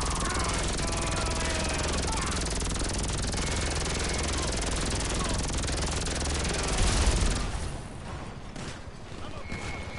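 A helicopter in GTA 5 Online gameplay roars loud and close with a continuous rotor drone for most of the stretch, then surges briefly and drops away to a thinner background.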